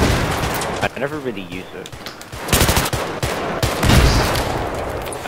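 Automatic gunfire from Battlefield 3 in a co-op mission rattles loudly in dense bursts, nearly continuous, with someone talking briefly over it.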